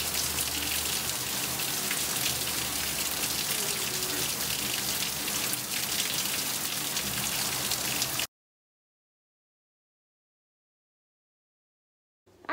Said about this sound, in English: It's a gully washer. I don't know if you can see the hail.